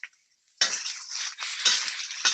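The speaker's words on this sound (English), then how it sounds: "I'm going to add my mushrooms in." Mushrooms hit a hot stir-fry pan over high heat. After a near-silent start comes a sudden loud sizzle, then sustained hissing with a few fresh bursts as they are tossed, heard without talk.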